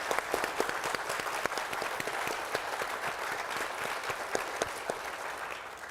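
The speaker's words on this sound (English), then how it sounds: "Please give a big round of applause for our esteemed panelists." Sustained audience applause for panelists at a community event on recovery and safety, dense and steady clapping filling the room for about six seconds with no talk.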